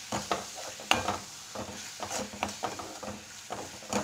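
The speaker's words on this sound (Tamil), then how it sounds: "இந்த மசாலா எல்லாத்தையும் போட்டு அந்த எண்ணெயிலே நல்லா ஃப்ரை பண்ணியாச்சு" Masala spices frying in oil in a pan over a low flame for a butter beans curry, with a steady soft sizzle broken by repeated scraping stirs and a sharp clink near the start.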